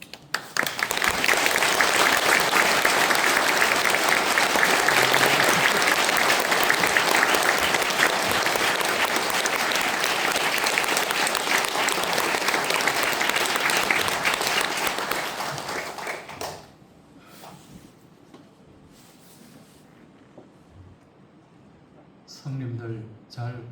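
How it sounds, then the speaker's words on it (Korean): A church congregation at a special dawn prayer meeting gives a welcoming applause to a guest speaker, loud sustained clapping for about sixteen seconds that then stops abruptly, followed by quiet room sound and a voice starting to speak. "큰 박수로 환영해 주시기 바랍니다"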